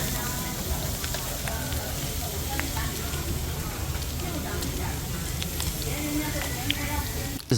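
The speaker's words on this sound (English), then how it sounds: "That sizzling meat." Meat sizzling in a hot pot at a busy hot pot restaurant, a steady dense crackle and hiss filling the whole stretch, close up, with restaurant chatter murmuring underneath.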